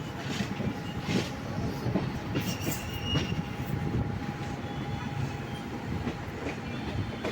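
Sleeper coach of the 17230 Sabari Express running between Coimbatore and Kollam Junction, a steady rolling rumble of wheels and carriage throughout, with faint squeals and clatter rising briefly over the continuous roar.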